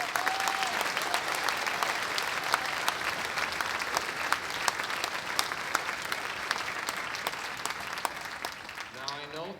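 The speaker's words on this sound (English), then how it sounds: "So can we give a round of applause to them, please?" A crowd at a university marching band concert applauds the custodians with steady, dense clapping across the whole stretch, a voice faintly heard near the start and end.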